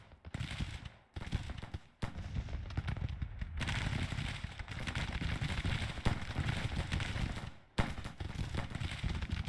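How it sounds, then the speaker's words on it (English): Artillery fire in the Grand Tactician strategy game, set in the Confederate 1864 campaign during a battle at a fort. Dense, continuous rumbling gunfire runs steadily with brief drops, heard from a distance. "This artillery is firing."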